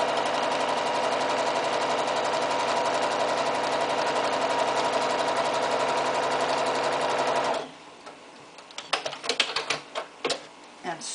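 A sewing machine runs fast and steady while stitching quilting fabric glided across a table with a slider, a dense continuous whirring rattle that stops abruptly, followed by scattered clicks and handling noises.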